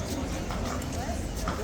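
Horse hooves clip-clop at a steady walking pace, close by, under a brief stretch of talk.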